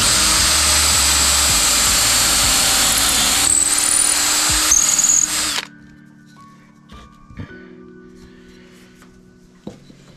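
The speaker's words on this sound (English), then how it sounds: "I drill down a nice hole in the middle" A power drill screams loudly and steadily for about five seconds, then cuts off, leaving a quiet room with a few small clicks.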